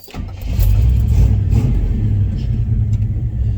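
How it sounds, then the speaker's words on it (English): A hot rod 4x4 truck engine revs up hard, a loud, sustained low rumble that climbs and holds close by with no talking. "Throttle response, just revving it up, it's just mucho better."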